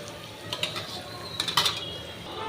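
Grated raw mango being stirred in an oiled pan with green chillies for mango pulihora: soft scraping and a few light metallic clinks of a spoon against the pan over a low sizzle.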